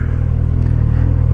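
Motorcycle engine revving loud and close, a deep rumbling roar that swells slightly toward the end of a brief burst.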